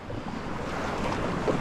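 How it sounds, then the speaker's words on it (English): Ocean surf breaking in the wave zone, heard from a stand-up paddleboard out on the water, a steady close wash of waves mixed with wind noise. "Got a few waves coming."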